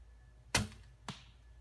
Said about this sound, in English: Right now we'll try the lighted knock.